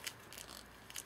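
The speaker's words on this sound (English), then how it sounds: "my tape came a little bit loose, so I'm gonna wanna cut this here." Quick, quiet snips of scissors cutting loose tape near a shoe sole, a few brief crisp cuts in two short bursts.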